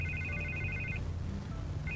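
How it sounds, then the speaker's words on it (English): A telephone rings in Batman: The Telltale Series video game with a clear, repeating electronic trill. It sounds for about a second, pauses, then starts again over a low background hum. "I can't get the phone to stop ringing."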